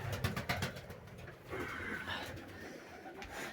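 Vienna pigeons coo softly in a breeding loft in spring, low rolling coos repeating through the moment over a muffled indoor background.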